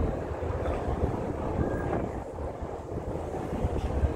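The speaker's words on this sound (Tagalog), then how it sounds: "Nakaka-relax kasi mahangin." Continuous wind rushing past along the Tsing Yi Promenade in Hong Kong, with low rumbling buffets on the microphone, steady and moderately loud throughout, no voices.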